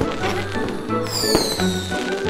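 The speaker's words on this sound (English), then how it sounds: "Look at those colorful fireworks!" Cartoon fireworks in a kids' bus cartoon: a rising whistle and a few sharp bursts and crackles going off over cheerful background music.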